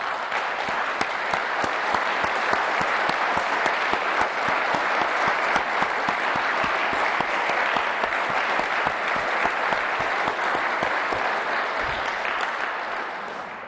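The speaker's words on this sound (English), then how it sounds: "let's give him a round of applause" A sustained round of applause from an audience at a human rights foreign policy address, dense steady clapping for over ten seconds that fades slightly at the end.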